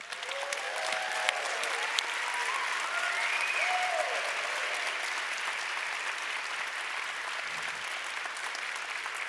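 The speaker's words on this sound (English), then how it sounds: "just a lot of clapping. First for our speakers." An audience at a live event claps for the speakers, a sustained wash of applause with a few whoops and cheers rising above it, moderately distant and steady throughout.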